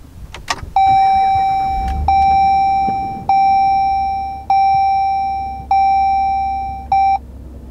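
Push-button start of a 2022 Jeep Wagoneer SUV: a brief starter whir, then a series of loud, clear chime tones sounding one after another, each fading before the next, with the engine settling to a low idle underneath.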